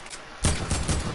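Gunfire in the video game Fortnite: a quick burst of several sharp shots in rapid succession after a short quiet moment, close and punchy.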